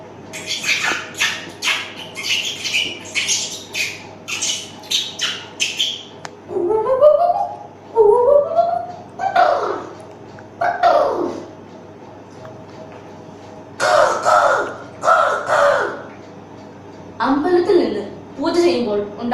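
A human voice imitates a series of bird calls: rapid high chirps and trills, then rising whistled notes, in short bursts separated by pauses.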